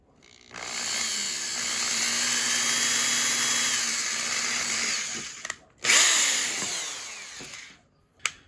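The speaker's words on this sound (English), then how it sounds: "we're gonna start with a smaller one to drill a pilot hole through the middle" A power drill fitted with a small bit bores a pilot hole through the middle of a part during a proton pack installation: a loud, steady whine for about five seconds, a brief pause, then a second shorter burst, close and alone.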